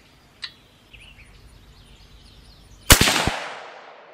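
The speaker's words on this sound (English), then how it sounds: "Second shot, see where it hits." A single loud rifle shot from a Savage Axis chambered in 6.5 Creedmoor, fired at a 100-yard range, cracks sharply with a long rolling echo after a few seconds of quiet outdoor ambience.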